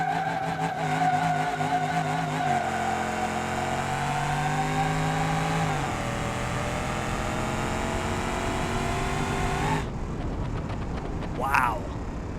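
A drag car in BeamNG.drive launches off the trans brake, its revving engine loud and sustained with tires skidding, then cuts to a quieter rumble with a brief squeal near the end.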